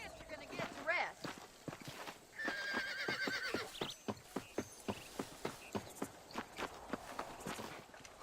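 A horse in the video game Red Dead Redemption whinnies loudly, then its hooves clip-clop in a steady rhythm of close, sharp beats as it walks along.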